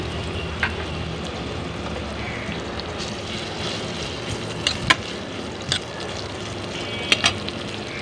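Chopped onions fry in oil left over from frying eggplant, a steady soft sizzle broken by occasional clicks and spoon scrapes against the pan.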